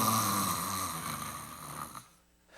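A preacher imitates snoring with his voice, a sustained rasping snore that fills the first two seconds and then trails off into near silence.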